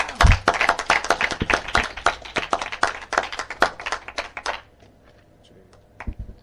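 Church congregation clapping and applauding in praise of the Lord, dense rapid clapping with loud voices for about four and a half seconds, then fading to a few scattered claps.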